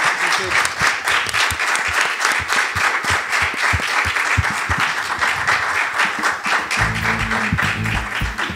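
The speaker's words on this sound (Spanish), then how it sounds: "me parece los podemos aplaudir" Audience at a panel on independent musicians gives sustained, loud applause, a dense patter of many hands for over eight seconds, with a low tonal sound joining near the end.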